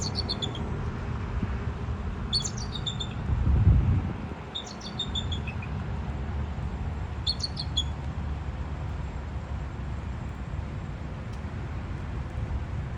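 A bald eagle gives four short bursts of high, thin chirping calls at intervals over a steady outdoor background, with one dull low thump partway through.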